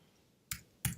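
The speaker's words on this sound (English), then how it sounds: "you just need to click on new here" Two crisp computer mouse clicks about a third of a second apart, close and clear against a quiet background.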